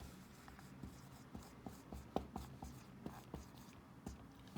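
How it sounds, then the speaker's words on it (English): A pen scratches and taps on paper while working through a math problem, with short, quiet strokes and clicks in a loose, irregular rhythm against a faint background. "So here I write multiply"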